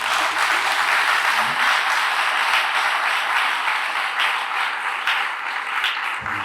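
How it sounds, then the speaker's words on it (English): A church retreat audience in Accra claps steadily for several seconds, dense and even, tapering slightly toward the end. "Let's give him a round of applause."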